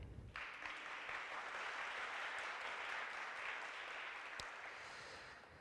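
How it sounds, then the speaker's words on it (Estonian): Steady, dense applause from an audience at a student science festival awards ceremony, sustained and even throughout before tapering slightly at the end, heard from a distance. "Suur aplaus!"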